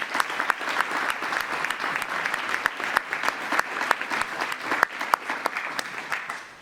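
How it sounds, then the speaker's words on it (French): Sustained audience applause at a village New Year's greetings ceremony in Bousies, a dense crowd of steady clapping with sharper individual claps standing out, filling the whole stretch without voices. "Et je voudrais qu'on vous applaudisse."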